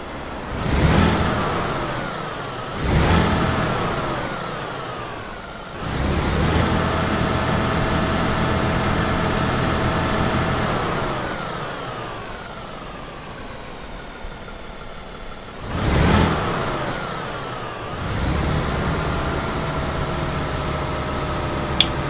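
A truck's engine, heard from the cab, revs up several times in bursts separated by steady idling and running drone, with rising whines after each surge; moderately loud, no talk.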